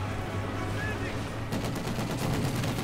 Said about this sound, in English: Heavy mortar continues to fire away